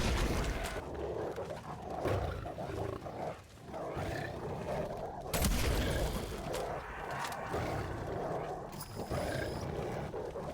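Gunfire in Call of Duty: Black Ops Cold War, Die Maschine zombies map, shooting a canister, heard as dense layered game combat noise with loud bursts amid roaring creature sounds, steady and busy throughout.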